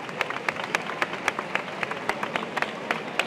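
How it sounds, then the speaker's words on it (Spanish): Spontaneous applause breaks out from a crowd at a religious procession in Cádiz, a steady patter of scattered hand claps at moderate distance, with a faint murmur of voices underneath. "se suceden los aplausos."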